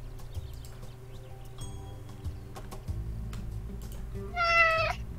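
A single cat meow, clear and fairly close, rises near the end in the Animal Shelter game, over soft background music and light clatter.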